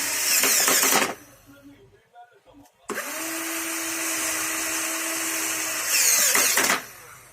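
A power drill drives screws into a table during assembly, with two loud whirring bursts, the second long and steady, separated by a quiet gap with faint handling noises.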